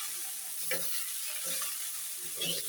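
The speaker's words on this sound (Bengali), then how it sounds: "এখন শুধু এটা ভালোভাবে ভেজে নিলে" Spring onion with potato and chanda fish frying in a pan, a steady close sizzle with a few soft stirring scrapes, no voices.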